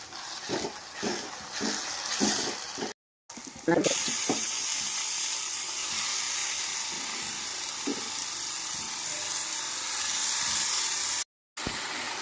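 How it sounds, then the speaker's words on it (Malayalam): Spice powders fry in a pan with onion, tomato, ginger and garlic for a chicken dish, giving a steady, close hiss with occasional stirring scrapes and brief gaps. "അതിലേക്ക് നമുക്ക് മസാലപ്പൊടികൾ ചേർത്ത് കൊടുക്കാം. നന്നായിട്ട് മൂപ്പിക്കും."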